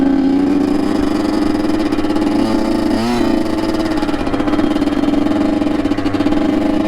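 A dirt bike engine keeps running while riding through hard-packed snow, holding a steady, loud drone with a brief rising rev near the middle.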